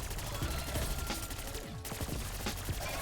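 Akimbo Grekhova pistols in Black Ops 6 Zombies fire in rapid, dense bursts of sharp shots, close and continuous for a few seconds with a brief pause midway.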